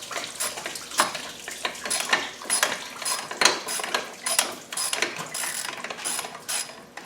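A ratchet wrench works the last bolt out of a Defender 300 Tdi engine block, giving a close, steady run of quick metallic clicks and pawl ratcheting with uneven strokes.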